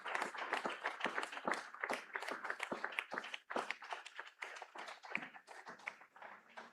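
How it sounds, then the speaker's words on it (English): Moderate applause and clapping from an audience at a school board meeting, a quick, irregular patter of hands that continues steadily throughout. "Let's give one more round of applause for our success in education."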